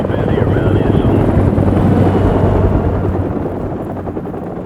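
Loud, steady rotor and engine drone from enemy helicopters in the military shooter Call of Duty 4 Remastered, filling the scene continuously and easing off slightly toward the end, with no voices over it.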